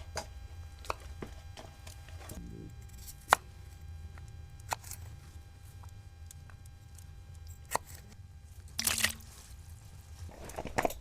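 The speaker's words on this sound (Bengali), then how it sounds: "ফুলকপিটা ছোটো ছোটো করে পিস করে নেবো" Cauliflower chopped into small pieces with a knife on a board: sharp, separate cuts at an irregular pace, close and clear against a quiet background, with a brief rustle toward the end and no voices.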